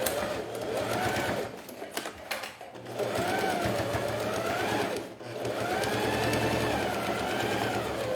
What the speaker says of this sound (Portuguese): Vou costurar com a agulha no centro.